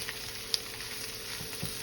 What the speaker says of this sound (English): So you add the carrots.